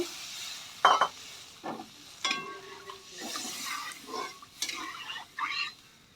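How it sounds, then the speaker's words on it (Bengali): A spoon scrapes and clinks against a pot in short, irregular strokes over a soft background bubbling simmer of egg curry broth. "আমাদের ঝোল ফুটছে"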